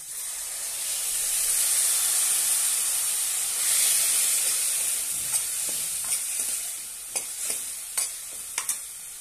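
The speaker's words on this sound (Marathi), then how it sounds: "आता यामध्ये ही भिजवलेली चवळी घालूया।" Soaked cowpeas tipped into hot oil and stirred for a curry with brinjal and potatoes: steady loud sizzle and hiss, swelling briefly, then sharper scraping stir clicks toward the end, with no talk.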